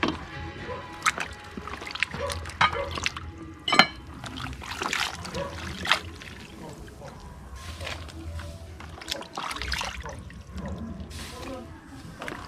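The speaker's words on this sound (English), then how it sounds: "gonna wash the vegetable" Vegetables being washed in water for a chicken-foot and chicken-back soup with pumpkin: irregular splashes, trickles and clatters in a basin, close by, with occasional louder knocks and no speech.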